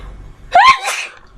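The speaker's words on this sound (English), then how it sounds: "the chemical smell is making me sneeze." A single sharp sneeze, loud and close, with a quick breathy intake just before it.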